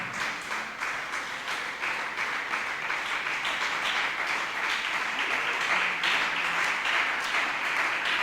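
A church congregation applauding at a French-language gathering, steady rapid clapping from many hands that carries evenly throughout, moderately loud and without speech.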